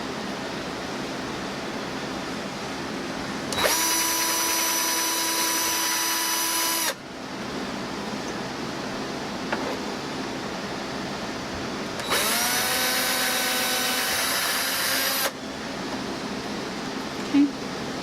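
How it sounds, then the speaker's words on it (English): A handheld power drill bores holes for a DIY photo display in two bursts of several seconds each, a loud high whine that starts and stops abruptly, with quiet room tone between. "I'm going to go ahead and drill"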